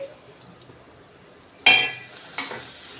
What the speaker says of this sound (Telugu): ఇలా మధ్య మధ్యలో కలుపుకుంటూ ఉండాలి